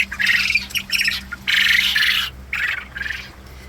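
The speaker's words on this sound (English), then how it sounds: "This is a small pen of quail that are not related to anything else that I have here." Jumbo brown coturnix quail call from a pen in hot Texas summer weather, giving a run of loud, near, raspy squawking bursts with short gaps between them, heard alone without any talk.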